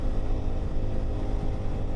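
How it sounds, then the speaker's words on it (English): A KTM 390 Adventure R motorcycle engine runs at highway speed, a steady, dense drone mixed with wind rush, loud and continuous throughout with no talk. "Really smooth engine"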